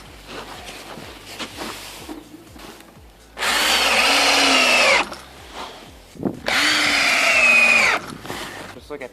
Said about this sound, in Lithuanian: Mes jau prispaudę prie blokelio kraštą ir iš apačios prisukome po varžtą.